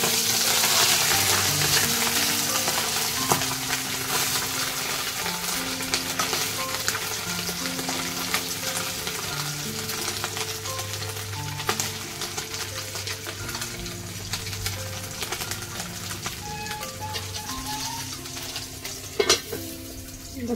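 Fish sizzles and spits steadily in hot oil in a pan as it fries to a crisp, with the odd scrape of stirring. The frying stays close and continuous throughout with no talking.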